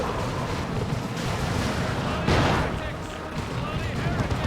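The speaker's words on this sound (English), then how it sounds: "Leman Russ picked off a single heretic with that Vanquisher cannon shot there." A Leman Russ tank fires its Vanquisher cannon in the Warhammer 40k video game Dawn of War 2, one sharp booming shot amid ongoing battle noise and scattered gunfire.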